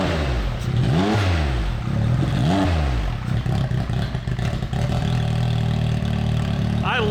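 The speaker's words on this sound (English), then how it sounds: "I love that idle. I love that burble." A nitrous-powered Can-Am X3 side-by-side engine idles with a loud, lumpy burble close by, punctuated by a couple of sharp blips that rise and fall, with a person speaking briefly over it.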